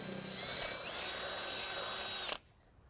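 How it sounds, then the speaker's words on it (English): An electric drill bores a pilot hole through the steel frame of a 2016 Ford Focus during trailer hitch installation, giving a close, high whine that rises slightly in pitch and then stops abruptly. "We're going to start out by drilling our pilot hole."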